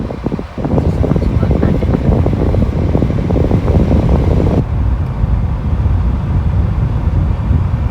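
Continuous whooshing airflow from a 2017 Toyota Corolla AC blower fan, loud and close, with a rumbling low end that drops slightly partway through.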